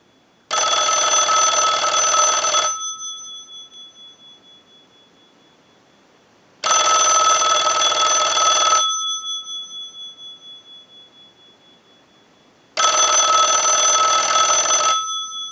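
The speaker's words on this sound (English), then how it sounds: "send a ring cycle like you were getting a call" A Northwestern Bell Trimline telephone's bell rings in three long electronic bursts, each about two seconds, separated by pauses of silence, loud and close.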